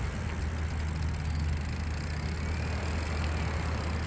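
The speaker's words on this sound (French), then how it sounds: "La chaîne tourne, le moteur part, et hop, il a donné un bon coup de puissance" The mid-drive motor of a Vélec R48 Pro electric bike spins the rear wheel freely through the chain, a steady close-up whir with low rumbling undertones that holds even in level for the whole moment.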